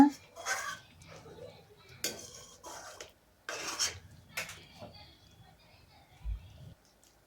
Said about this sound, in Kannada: ಬೇಯಿಸ್ಕೊಂಡು ಕಟ್ ಮಾಡಿ ಫ್ರೈ ಮಾಡ್ಕೊಂಡಿರುವಂತಹ ಮೊಟ್ಟೆಯನ್ನು ಸೇರಿಸ್ಕೊಳ್ಳೋಣ ಎಲ್ಲವನ್ನು ಚೆನ್ನಾಗಿ ಮಿಕ್ಸ್ ಮಾಡ್ಕೊಳ್ಳೋಣ